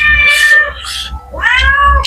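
A cat meows twice, loud and close, each call rising then falling, with a brief pause between them.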